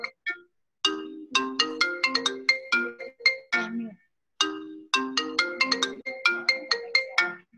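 A mobile phone ringtone goes off during a hospital doctor's talk on COVID-19 prevention, a bright, loud melodic chime pattern played in two phrases separated by a short pause, with no talking over it.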